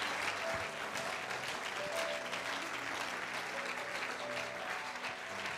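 A church congregation applauding and cheering during a sermon, a steady wash of many hands clapping at moderate distance, sustained without a break.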